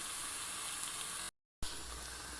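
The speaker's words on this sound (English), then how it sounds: "Now I'm going to add the tomato puree in" Tomato puree poured onto onions and spices cooking in a pan sets off a continuous, even sizzle up close, broken by a short moment of total silence before the hiss carries on.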